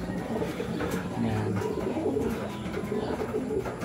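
Racing pigeons from new bloodlines coo steadily in a loft, with soft overlapping calls and a brief voice speaking.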